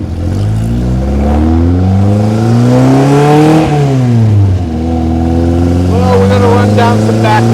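A 1955 Austin-Healey 100S tribute's engine revs hard under throttle on a road drive, harmonics climbing and falling through gear changes, loud and close from inside the car, with a brief crackle near the end.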